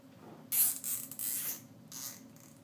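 A plastic zip tie ratcheting tight on a homemade bike lock gives close, quick zipping bursts, a longer pull followed by a shorter one, with no talk.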